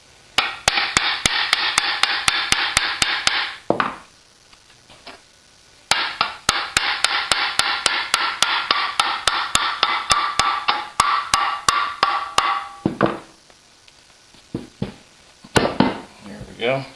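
Sharp hammer taps ring against a Cetme HK receiver flat seated on a 20 mm mandrel tube, coming in rapid steady bursts of close, loud strikes with short pauses between runs, ending in a few scattered taps.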